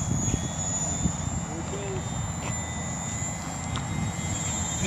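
A new toy model airplane in flight gives a thin, steady high motor whine at moderate distance over outdoor background noise, while people talk nearby.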